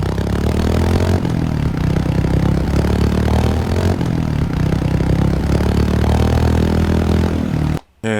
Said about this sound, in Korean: 이렇게 배기음도 들어올 수 있네요